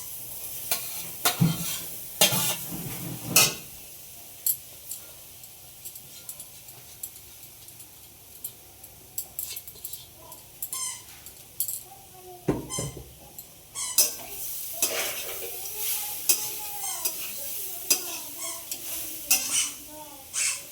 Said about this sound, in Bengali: নারকেল আর চিনিটা কড়াইয়ে এবার আস্তে আস্তে দিয়ে দেবো।